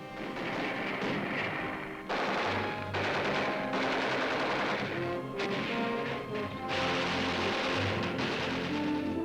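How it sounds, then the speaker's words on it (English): Gunfire from Japanese snipers during the 1945 battle for Manila as medical corpsmen carry the wounded, a loud, dense burst of rapid shots and cracks that fills the whole stretch with brief gaps. "Medical corpsmen carrying wounded scatter as Japanese snipers open fire."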